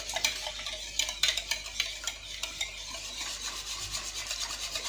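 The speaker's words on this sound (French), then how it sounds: "Donc je vais mélanger tout ça." Dough ingredients are mixed by hand in a bowl. Soft scraping and rubbing strokes repeat steadily and quietly, close by, with no talking.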